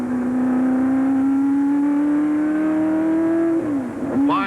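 A race car at speed during the 1966 Road America 500 road race, its engine holding a loud, steady, slowly rising howl, then dropping abruptly and climbing again near the end, as on a shift or braking point.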